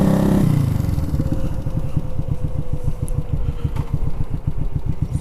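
A 200-pound motorcycle's engine runs close by in a steady, loud, rhythmic putter, with a brief louder burst at the start before it settles into an even chugging idle.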